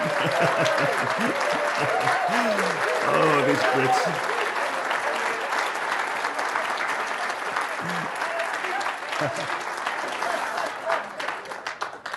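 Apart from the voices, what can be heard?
standing ovation applause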